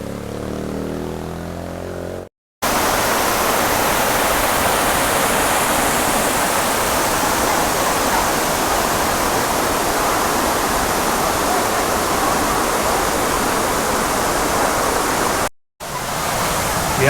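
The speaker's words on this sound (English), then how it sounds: "just admire the beauty of that waterfall and the water" Tumalog Falls, a waterfall in Cebu Province, Philippines, pours in a loud, steady, continuous rushing roar, close by and unbroken apart from brief cuts.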